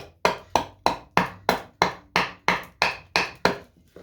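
Hatchet chopping into cedar wood while roughing out a carved leaf, about a dozen sharp evenly spaced strikes, close and crisp, each with a short woody ring and no talk.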